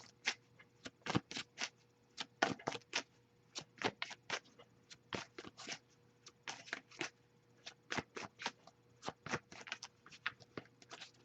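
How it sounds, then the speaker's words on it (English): Tarot cards are shuffled by hand close up in a quiet room, making a steady run of soft crisp riffling slaps and taps in irregular rhythmic bursts. "I'll give it a few more shuffles."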